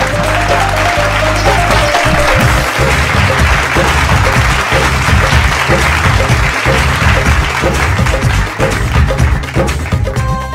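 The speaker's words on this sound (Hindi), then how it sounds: "जोरदार ताली के साथ स्वागत करी" A stage-show audience gives loud, sustained applause to welcome a singing contestant, thick rapid clapping throughout with music playing underneath.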